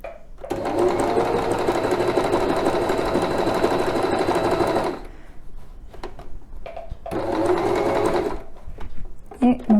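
A Lidl sewing machine stitching a tote bag runs in two bursts, a long steady whirring stretch then a pause with small clicks and handling noises before a second shorter run; nearby and fairly loud.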